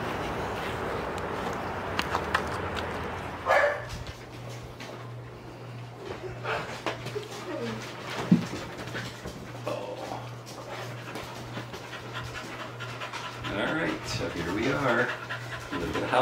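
Dogs panting steadily indoors in a house, with soft whimpers, footsteps and a steady low hum, while a person talks over much of it; barking is not distinct.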